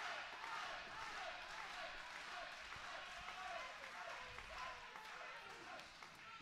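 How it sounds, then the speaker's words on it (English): Wrestling crowd at an independent SFCW show in a ring arena, chanting and clapping for a wrestler during a tense late-match moment; steady, dense crowd roar with rhythmic clapping throughout. "Listen to the crowd chanting for I Cross here right now."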